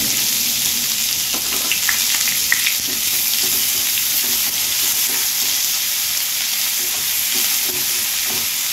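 Cumin seeds and bay leaf sizzle hard in hot oil as the tempering for a Bengali prawn curry. The frying hiss is loud and steady throughout, with faint stirring and no voices.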